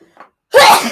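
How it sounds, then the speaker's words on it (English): A small catch of breath, then one loud, sharp sneeze close by. "I think I have to sneeze."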